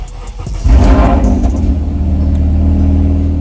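A 9th-generation Honda Accord engine cranks and fires up on a fresh Ktuner V2 crackle tune, a loud catch followed by a steady, rumbling idle heard up close with no talk.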